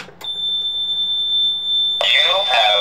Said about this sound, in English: And now we can get an instant alarm,